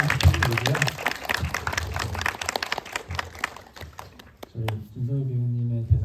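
Audience applause at a Korean film screening and director Q&A for the movie Mimang, a scattered crowd clapping in a hall that fades out, then a voice over a microphone speaks.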